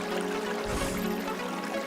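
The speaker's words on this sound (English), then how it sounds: "They make this sound when air bubble gets trapped in the stream and then burst." A babbling brook, water bubbling and trickling steadily over stones, continuous and moderately close with no voices.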